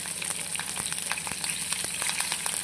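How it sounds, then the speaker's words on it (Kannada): Mustard seeds, cumin, a chili and curry leaves splutter in hot oil for a South Indian tempering, a dense steady crackle of sharp pops and sizzling with no voices. "ಸಾಸಿವೆ, ಜೀರಿಗೆ ಮತ್ತು ಒಂದು ಮೆಣಸಿನ್ಕಾಯಿ, ಕರಿಬೇವು ಸೊಪ್ಪು ಇಷ್ಟನ್ನು ಹಾಕಿ ಒಗ್ಗರಣೆ ಮಾಡ್ತಾಯಿದ್ದೀನಿ"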